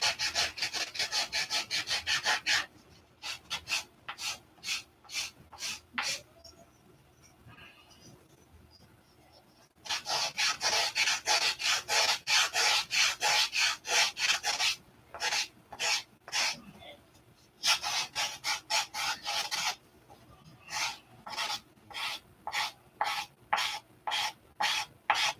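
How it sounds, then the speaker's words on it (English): Rapid back-and-forth strokes of sandpaper rubbing on wood by hand come in several bursts, with quiet pauses between them and faint scraping during the gaps. "you've seen my sanding techniques"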